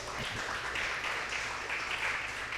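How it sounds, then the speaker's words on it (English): An audience at an interview show claps in a steady, moderate patter of many hands, continuous and fairly even across the few seconds. "Y'all can clap it up."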